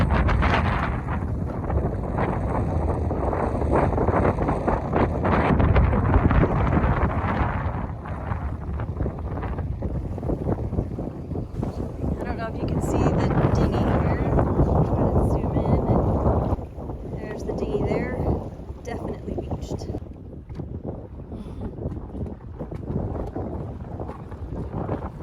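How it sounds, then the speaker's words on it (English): Gusts of 18 to 20 knots buffet a small dinghy out on the water, and loud, steady wind roar fills the clip and eases somewhat toward the end. "Gusting 18 to 20 knot winds, which is not a very good time to be trying to be out in your dinghy anyway."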